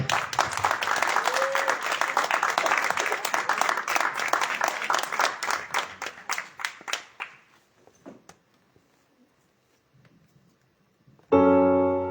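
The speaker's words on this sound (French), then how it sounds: "Vous pouvez l'applaudir" Audience applauding a singer, a full burst of clapping that holds strong for about seven seconds, then trails off into a few scattered claps and near silence before music suddenly begins.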